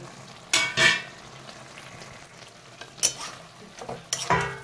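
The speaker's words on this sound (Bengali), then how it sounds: "ভালোভাবে বড়িগুলোর সাথে সবজির সাথে মিশিয়ে দিচ্ছি" Fried lentil dumplings are stirred into simmering spiced vegetables in a pan, with a soft steady sizzle broken by several sharp scraping and clinking strokes of a spoon against the vessel, close and clear.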